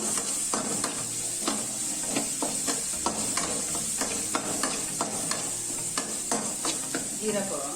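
Ginger garlic paste frying in a pan for green pea rice, a steady close sizzle broken by frequent rhythmic scraping strokes of stirring.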